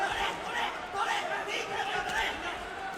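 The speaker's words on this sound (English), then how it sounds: "The crowd is going crazy." Roaring crowd noise fills a combat-sports event as two fighters, Matsubara and Hu Tao, trade blows in the final seconds; a dense, steady wall of cheering and shouting with surging swells, loud and continuous throughout.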